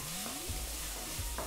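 Ginger, green chillies and cumin sautéing in a spoonful of hot oil, a faint steady sizzle with light stirring scrapes, close by and without voices.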